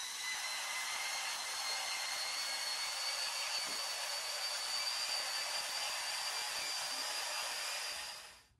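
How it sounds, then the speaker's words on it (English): A steady, high-pitched electric buzz of hair clippers cutting hair on a head runs continuously for several seconds, then cuts off at the end. "I'm going to have to cut it with my normal clippers first"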